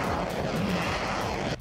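Explosions from Russian missile strikes in Ukraine give a dense, loud rumbling roar that fills the short stretch and cuts off abruptly near the end.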